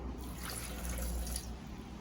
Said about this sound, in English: I don't have ice like that, so I'm going to just put in some water.